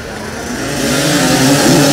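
Off-road race vehicles with engines running and revving at the start of a muddy off-road race, a steady, loud motor roar building slightly in intensity throughout.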